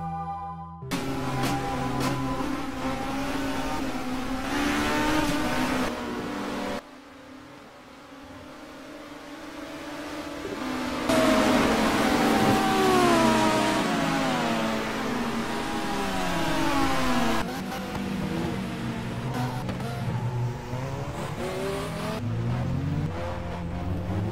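1994 British Touring Car Championship cars race in the Race 07 game, their engines revving and shifting through gears with rising and falling pitch, loud and close, with a brief drop between passes.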